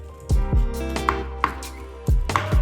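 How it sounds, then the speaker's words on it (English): Knife chopping onion and natto on a cutting board, with several sharp, close knocks in irregular bursts over a steady hum of background music. "Start by mincing the onion and natto"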